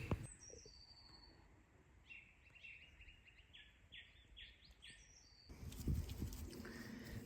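Birdsong on a bright, wet morning outdoors: a faint run of repeated high chirps and whistles over steady background hiss, fairly distant, then a louder rustling noise near the end.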